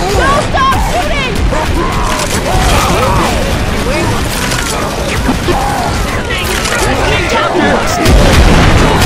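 Loud, chaotic gunfire and explosive booms in a Left 4 Dead 2 VR zombie fight, continuous and dense throughout, mixed with shouting voices and game effects.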